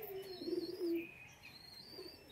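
A pair of white Madrasi pigeons held in hand gives faint, low, warbling coos in a couple of short bursts, with thin chirps above them.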